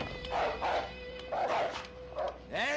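A dog barks and yips in several quick bursts, close and loud, in a scene from a TV drama, with a constant hum in the background.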